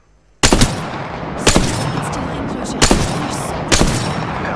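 Four loud bursts of automatic gunfire in Apex Legends, spaced about a second apart, each a sharp crack trailing into a sustained rattle over constant battle noise.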